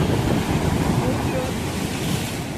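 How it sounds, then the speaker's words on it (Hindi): Sea waves breaking on the shore at Kanyakumari, a steady, loud wash of surf with wind buffeting the microphone throughout, no clear voices. "ସମୁଦ୍ର କୂଳର ଯେ ଢେଉଟା ହେଉଛି ସେଇଟା ଦେଖିକି ଆମେ ମଜା ମଜା କରିଛେ"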